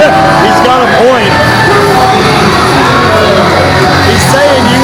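A wrestling crowd at a UWA Elite iWrestle 2016 show fills the arena with loud, continuous booing and jeering, while several voices shout over the din.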